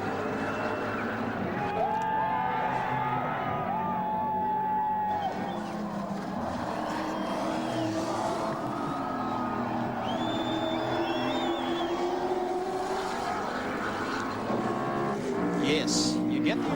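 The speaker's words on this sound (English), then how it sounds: "just listen to the crowd." A large crowd roars and cheers continuously over race car engines at the 1993 Tooheys 1000 touring car race, a dense, sustained wash of sound with occasional engine whines rising above.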